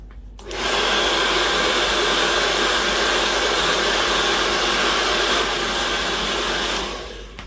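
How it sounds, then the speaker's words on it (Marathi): A hair dryer blows steadily and loudly while hair is blow-dried in a parlour, its even whoosh starting abruptly and holding for several seconds before cutting off, with no talking. "आपल्याला ब्लो ड्राय करताना तीन वेने करावा लागतो"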